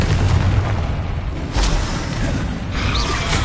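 A Confringo spell explodes in a Harry Potter video game with loud, rumbling booms and crackling bursts. A fresh blast hits around the middle, and mechanical rumble continues underneath.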